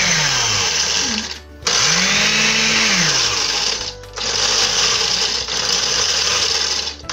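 A kitchen blender pulverizes toasted bread into crumbs for homemade chicken milanesa, whirring loud and close in several bursts with short pauses between them.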